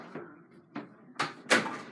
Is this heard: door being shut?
yes